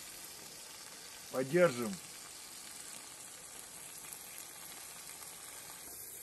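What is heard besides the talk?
meat assortment stewing in wine in a sadj pan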